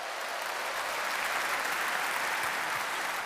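An audience at a seminar bursts into sustained, dense applause, many hands clapping evenly for a few seconds with no speech over it.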